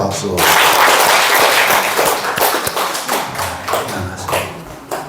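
A church congregation claps at a prophecy training school gathering, a loud burst of hands mixed with heavy taps and thuds that tapers as voices talk over it.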